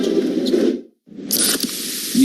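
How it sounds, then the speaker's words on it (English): A can of Pepsi Zero Sugar cola is cracked open and pours out a hiss of fizz, with a brief silent pause between two bursts of bright, crackling carbonation close up. "That's the sound of Pepsi Zero Sugar."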